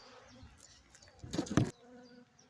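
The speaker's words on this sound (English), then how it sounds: "The bee's going to be a bit confused for a little while." Honey bees buzzing near a beehive entrance, a faint hum with a brief louder buzz as one passes close by, quiet otherwise.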